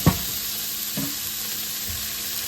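Bitter gourd and tomato cook on high flame in a covered pan, giving a steady, even sizzle throughout with a couple of faint soft knocks.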